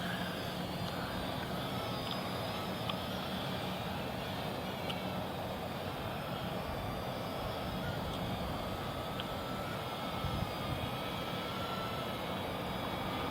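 A JXD 515W mini RC quadcopter flies outdoors in a light breeze, giving a continuous buzzing whir of small propellers that stays fairly steady throughout, moderately faint with wind and background noise.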